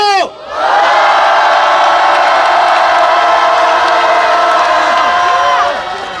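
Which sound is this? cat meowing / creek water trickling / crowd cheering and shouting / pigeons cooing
crowd cheering and shouting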